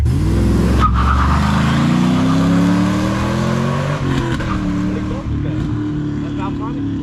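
A loud, deep Camaro SS V8 exhaust, newly fitted, rumbles and revs up close, engine pitch rising and falling steadily.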